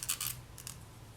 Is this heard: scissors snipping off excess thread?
yes